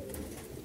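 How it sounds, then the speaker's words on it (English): Pigeons in a clean loft give low, soft throaty coos that run continuously and close by, with no talking over them. "Healthy birds cooing around, moving around, doing all sorts of things."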